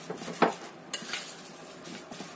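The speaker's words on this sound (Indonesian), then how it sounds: "Kita aduk sampai tercampur rata lagi." Seasoned ingredients being stirred in a bowl, with scraping and clinking of a utensil against the dish, a sharper knock near the start and softer stirring scrapes after it, close and moderately quiet.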